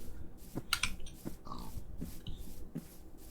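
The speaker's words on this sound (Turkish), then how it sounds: "Domuz sesi" Short pig grunts and oinks from Minecraft repeat every half second or so over a faint background, with a few brief higher clicks between them.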